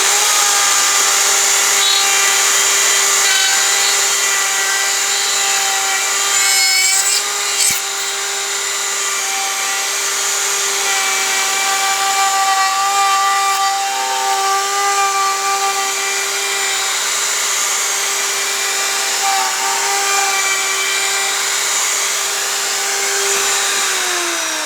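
A PantoRoute router runs steadily, cutting a mortise and tenon joint in wood, with a loud, continuous high whine and a few brief dips in pitch as the bit bites into the workpiece.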